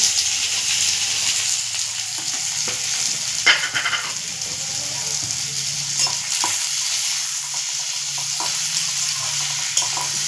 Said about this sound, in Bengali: এটা ভাজা হতে সময় লাগবে বৌদি